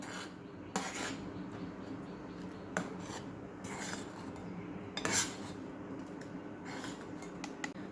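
Spoon scraping and stirring cardamom powder through a sweet fasting dish in a pan, a steady close rasping rub with a few sharper clinks of utensil against the pan.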